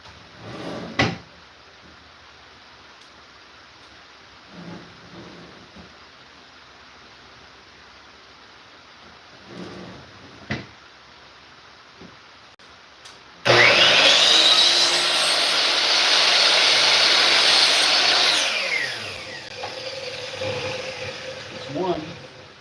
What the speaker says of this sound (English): So we're back at the miter table. And let's try that cut first.